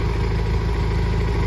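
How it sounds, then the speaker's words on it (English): John Deere 318 lawn tractor engine running smoothly at a steady idle, a close, continuous low chugging hum with no talk over it. "It's running like it's brand new."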